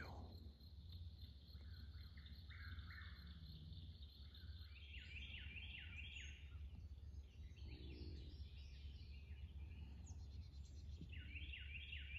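Night birds at a grassland campsite give repeated chirping calls in fast bursts, faint and distant over a steady insect trill in otherwise quiet darkness.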